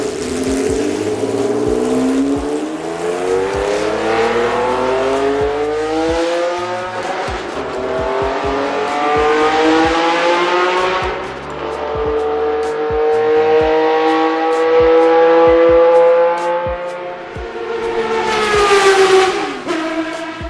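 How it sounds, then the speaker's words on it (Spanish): An early-1970s race car engine howls through repeated high-revving sweeps, pitch climbing and dropping with gear changes over about twenty seconds, loud and close with no talk. "el cual contaba con el mejor sonido producido por un auto de carreras a inicios de los años 70"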